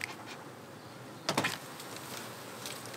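Bees drone faintly around an open-air beehive during a removal, with a brief louder buzzing burst partway through over a quiet background hiss.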